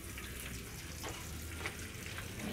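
Egg-coated chicken rellenos frying in a pan of oil in a Salvadoran kitchen, a steady soft sizzle and crackle with faint clinks, fairly quiet throughout.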